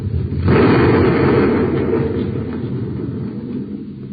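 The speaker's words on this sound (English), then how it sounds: "there goes a perfectly good light neutralizer blown to bits" A light neutralizer on a spacecraft is blown to bits, a loud explosion bursting in suddenly and rolling on as a long, roaring rumble that slowly fades.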